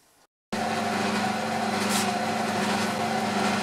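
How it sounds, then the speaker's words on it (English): A lathe drills into a brass ball in a home workshop, starting abruptly after a brief quiet gap and then running as a steady, loud motor hum with a constant tonal whine. "Now I need to drill and tap."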